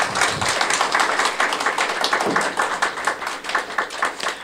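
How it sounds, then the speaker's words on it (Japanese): Audience applause closing a 2012 Okutama town mayoral election public debate, a dense, steady wash of many hands clapping that fills the whole stretch at fairly loud level, with no talk over it. "最後でございますので拍手をお願いいたします。"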